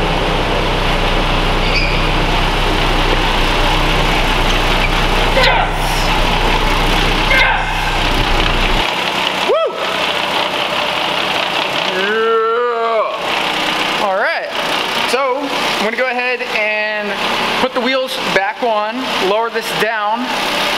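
A Dodge Dart GT with a new clutch runs with a deep, steady engine drone that cuts off abruptly, followed by short voiced exclamations and bursts of talk.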